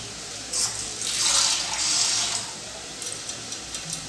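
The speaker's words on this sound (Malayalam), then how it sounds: "ഇനി ഇതിലേക്ക് നമുക്ക് വെള്ളം ഒഴിച്ചു കൊടുക്കാം," Water pours into a mushroom curry made with roasted ground coconut, turmeric and coriander powder, a close, splashing gush of about two seconds that fades into light drips.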